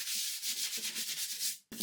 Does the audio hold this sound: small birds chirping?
no